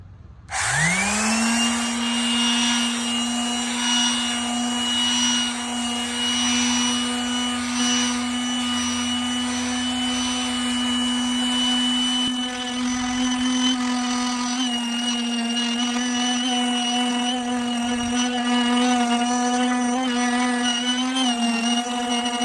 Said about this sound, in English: Here's the cover after sanding it with 220 grit sandpaper,